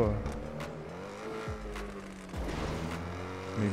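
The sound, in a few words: race car accelerating in video game GTA 5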